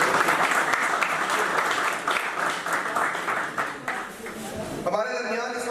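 A large audience gives a sustained round of applause at a cricket league opening ceremony, a steady wash of clapping from a distance that holds throughout and gives way to a voice over a public address system in the last second.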